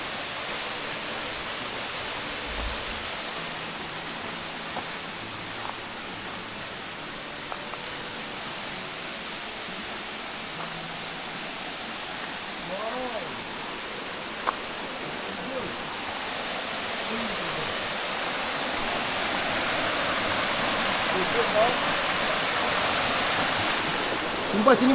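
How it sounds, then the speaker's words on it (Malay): Steady broadband rush of a waterfall on a forested hill along a hiking trail, continuous and moderately loud, swelling slightly toward the end with faint scattered sounds over it. "Ada air terjun."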